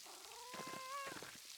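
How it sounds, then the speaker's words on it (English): A cat in the video game Pentiment is petted, giving a short, soft tonal meow over a light background of rain, brief and fairly quiet. "Oh, we can pet the cat."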